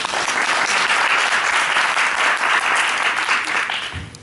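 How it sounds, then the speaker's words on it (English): An audience at a board of education candidates event applauds for the candidates, a full, sustained round of clapping from many people that stays loud before tapering off at the end. "Nice round of applause for them."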